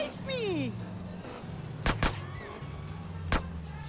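A vehicle drives in GTA San Andreas Definitive Edition with a steady low engine drone whose pitch sweeps, broken by a few sharp cracking impacts.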